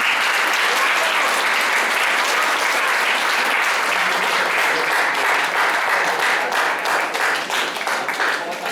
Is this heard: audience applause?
yes